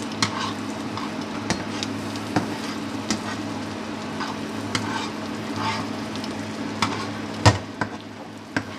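Garlic sautéing in a pan for butter garlic shrimp, a steady sizzle and crackle punctuated by occasional clicks and knocks of a utensil stirring against the pan, close and continuous.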